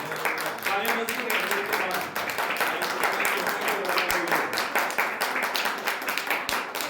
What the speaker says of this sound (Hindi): ताली बजा के प्रभु के नाम की तारीफ करो